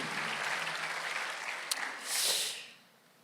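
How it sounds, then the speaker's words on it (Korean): A congregation at a Korean church's Sunday worship service claps in loud, sustained applause that swells briefly and then fades away. "박수를 치며 하나님께 영광을 돌리시라고"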